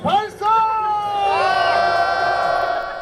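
Marathon runners at the start line shout together in a loud, rising group cheer, voices swelling into a long sustained whoop.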